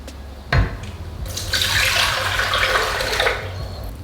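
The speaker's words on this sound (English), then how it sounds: "When ready, you can add in approximately 2 to 3 cups of filtered water." Filtered water pours steadily into a pot of miso soup base for ramen, beginning with a sharp splash and settling into a continuous close, bright gushing stream that runs for about three seconds.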